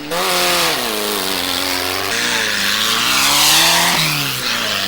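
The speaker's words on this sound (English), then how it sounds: "The roar of highly tuned motors and the stampede towards the Finke begins." Highly tuned race car engines roar loud and continuous at the start of the 1996 Finke Desert Race, with rising and falling revs as several motors surge together in the open desert.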